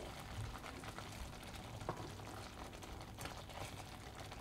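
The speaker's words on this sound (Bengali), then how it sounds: "আমি লো ফ্লেমে 5 মিনিট ফুটতে দিয়েছিলাম চিংড়ি মাছটা যাতে সিদ্ধ হয়ে যায়।" Shrimp simmering over a low flame in a Bengali masala prawn dish gives a steady, quiet bubbling hiss, with faint liquid pops and a soft clink now and then.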